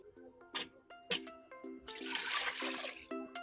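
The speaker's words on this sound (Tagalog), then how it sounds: "Lagyan natin ng tubig." Water splashes and gurgles into a cooking pot holding pork, garlic and onion for a couple of seconds, with soft background music playing throughout.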